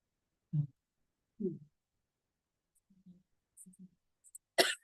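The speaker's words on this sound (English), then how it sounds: "I need to cough." Two short coughs spaced apart during a library board meeting, then a few soft throat noises and a sharp breathy burst at the end, close and otherwise quiet.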